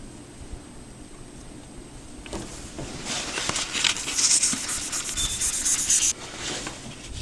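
A chip in a granite countertop is wet-sanded by hand with 2000 grit wet-dry sandpaper. A soft, steady rubbing scrape starts after a quiet moment, builds into a louder, close, hissing rasp with quick back-and-forth strokes, then eases slightly.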